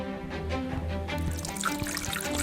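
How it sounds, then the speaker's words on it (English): Water pours and trickles steadily into a LEGO river model built as an ancient Egyptian Nile scene, a continuous close splashing flow lasting throughout. "Yes, the water is filling up the river."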